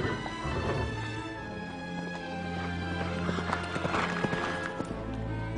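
A horse galloping away in a historical Spanish-Portuguese setting, with steady, rhythmic clip-clop hoofbeats close and fairly loud, plus a brief whinny-like sound over a continuous background bed.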